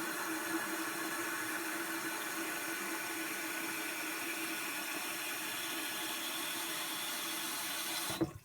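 A bathroom tap running steadily during a wet shave with a Merkur 34c safety razor, a continuous hiss of flowing water that cuts off abruptly at the very end.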